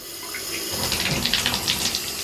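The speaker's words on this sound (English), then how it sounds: "I'm gonna turn on the water here." Water bursts on in a shower and keeps running, a bright steady hiss with splashing flutters that starts suddenly and continues close by without talk.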